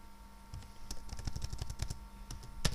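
Fingers tap on a computer keyboard in a quick, uneven run of soft clicks, close and fairly quiet, with a louder keystroke at the end.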